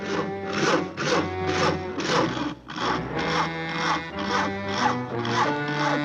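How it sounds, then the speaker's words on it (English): Steady rhythmic rasping of a saw cutting through a tree limb in a cartoon, repeated back-and-forth strokes at an even pace, fairly close and continuous. "Isn't that your house Harry is sawing on?"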